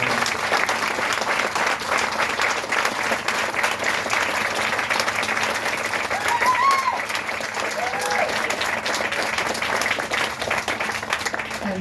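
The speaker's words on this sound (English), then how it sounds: "Please give this board a quick round of applause" Sustained applause from an outdoor crowd at the opening of a rain garden honoring enslaved Africans, clapping for the project board; steady and dense for the full length, with some voices mixed in.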